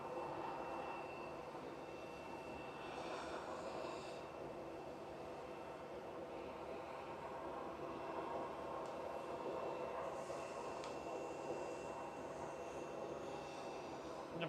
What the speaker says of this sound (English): Ryanair just about to land, but we will keep it on this takeoff.